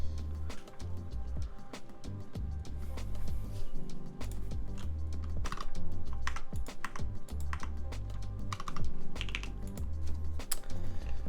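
Steady typing on a Cyberboard R2 mechanical keyboard with foam dampening, a continuous run of muted, soft keystroke clicks at close range with no talking.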